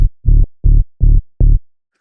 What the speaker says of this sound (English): So the low would sound something like this.